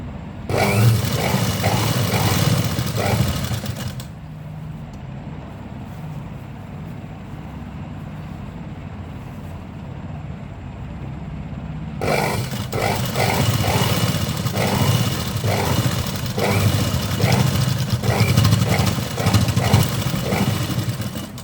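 A sewing machine stitches a blouse, its motor running in a loud steady rumble for about four seconds, pausing to a quieter hum, then starting again for the last ten seconds, with no talk.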